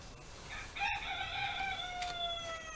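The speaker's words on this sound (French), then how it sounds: "Ça, c'est le coq" A rooster crows once, a clear drawn-out call with a rising start and a long falling tail, fairly close and standing alone against faint background noise.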